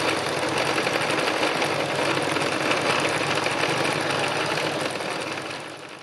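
Sewing machine running steadily through free machine embroidery on fabric, a dense continuous whirring buzz with rapid needle chatter, close and loud throughout and easing slightly at the end.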